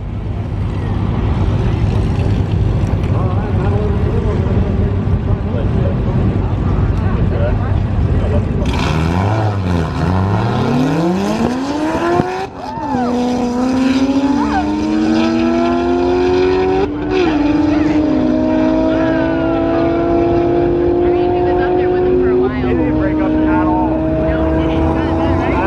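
Car engine accelerating hard through the gears on a half-mile run, a loud roar rising in pitch, dropping briefly at each shift, then climbing again, with excited talk over it.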